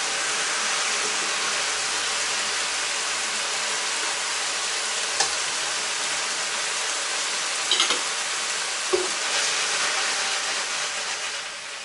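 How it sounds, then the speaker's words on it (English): Food sizzles steadily in a frying pan during cooking for rice and peas, a loud, even crackling hiss that holds for the whole stretch with a few faint clicks and knocks. "every time I lift it off, the sizzling starts to quieten"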